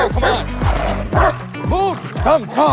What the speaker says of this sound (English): That's the dog I gave the meatballs to.